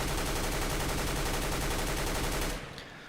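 Sustained automatic spray from an M4 rifle in CS:GO, a dense, rapid, unbroken stream of loud shots lasting about two and a half seconds before cutting off abruptly into a short tail.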